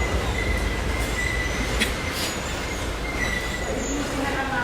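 A train runs along the rails, producing a steady, loud rumble of wheels with occasional thin metallic squeals. The sound is heard from on board and continues throughout.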